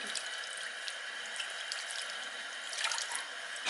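Warm water runs steadily from a bathroom tap into a sink, a continuous close hiss with light dripping and splashing throughout, no voices.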